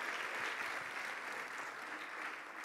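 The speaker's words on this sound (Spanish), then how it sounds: "Denles ofrenda de palmas al Señor." A church congregation applauds as an offering of praise during a worship service, a dense, steady wash of clapping from many people that holds throughout without a break.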